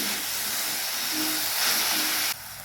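Tomatoes frying in oil for a spicy rice-papad vegetable curry make a steady, close sizzling hiss, continuous throughout and dropping slightly near the end; no voices.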